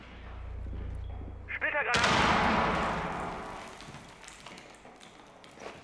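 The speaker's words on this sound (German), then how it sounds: "Die Schrotflinte auf kurze Entfernung." Close-range shotgun blast in Rainbow Six Siege: a sudden loud boom at about two seconds with a long noisy decay, following a low hum and a brief mechanical reload-like rattle.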